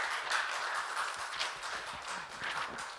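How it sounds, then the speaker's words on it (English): Applause from a workshop audience for a comics artist, a dense, even patter of many hands clapping at moderate volume that holds steady for a few seconds. "let's have a gigantic round of applause for Dean"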